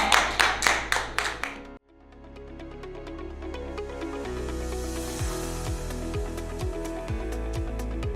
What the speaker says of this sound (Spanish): Un aplauso para los loros.